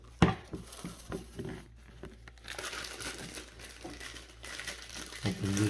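Crinkling and tearing of plastic packaging around a new toilet fill valve, a sharp rip at the start, then steady rustling handled close by, with someone speaking over parts of it.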